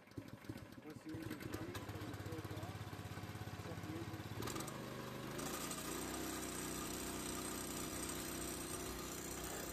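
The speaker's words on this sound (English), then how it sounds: "pull on the starter rope. Once the engine started, open the choke and set the engine to desired RPM." A Wallenstein log splitter's gasoline engine is started and runs, a steady close chugging drone that settles into an even, continuous idle with a slight shift in pitch partway through, heard without talk.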